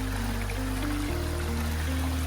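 A natural drinking spring in the hills near Montego Bay trickles steadily nearby, a continuous soft watery rush with a low droning hum underneath and no voices.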